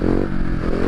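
Motorcycle engine revving steadily and close by during wheelie practice, a continuous throaty drone with light clatter and no clear gaps between throttle blips.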